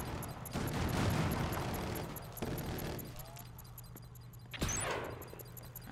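Gunfire from the video game Killzone Shadow Fall in online multiplayer, a sustained burst of shots with a sharp report near the end, layered over a steady low game drone.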